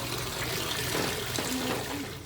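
Open running water flows steadily in a winter garden where wildlife comes to drink and bathe, a continuous close splashing rush without pause.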